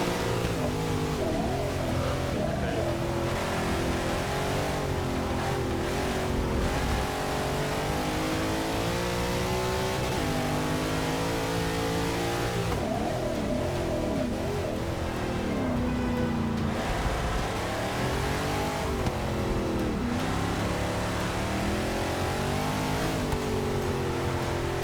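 A race car engine in Forza 6 league racing drones steadily and loudly throughout, rising and falling in pitch through repeated revs, shifts and corner exits, with no voices over it.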